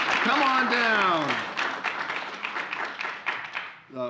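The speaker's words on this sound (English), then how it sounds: "We're going to applaud." Audience applause welcoming the mayor of Garden City at a Bear Lake research program kickoff: a brief voice at the start, then a sustained wash of clapping that thins and fades toward the end.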